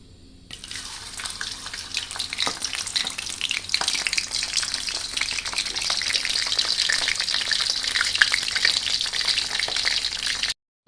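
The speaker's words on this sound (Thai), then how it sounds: "เรานำปลาทูลงมาทอดครับ" Dried mackerel fries in a hot pan, a dense, steady crackling sizzle that starts abruptly and continues loud and busy, with occasional stirring scrapes and no voices.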